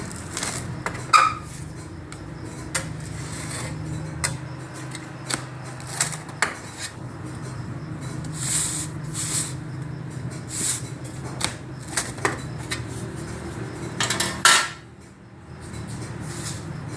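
A chicken supreme pizza is sliced on a dish, with a run of scattered clicks, scrapes and knocks of the cutter against the plate, fairly close and moderately loud, and no talking.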